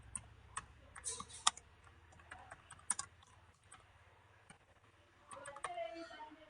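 Quick, light clicking of keys on a computer keyboard, in short irregular bursts at close range, with pauses between runs.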